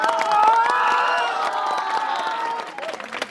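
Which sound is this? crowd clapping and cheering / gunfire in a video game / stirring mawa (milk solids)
crowd clapping and cheering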